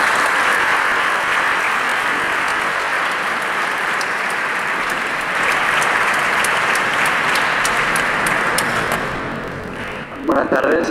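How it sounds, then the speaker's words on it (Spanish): A conference audience gives sustained, loud applause welcoming a speaker, a dense steady clapping that lasts about ten seconds before tapering off, with a few voices emerging at the very end. "vamos a recibirle con un fuerte aplauso"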